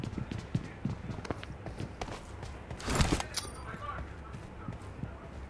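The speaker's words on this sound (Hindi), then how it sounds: "आ रहा हूँ भाई दौड़ते हुए।" Running footsteps in the mobile battle royale game BGMI patter in a quick, even rhythm, close and fairly quiet, broken by a louder burst of noise midway.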